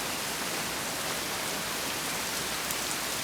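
Rain falls steadily on Koh Samui, a dense, even hiss of drops with no breaks and no talking.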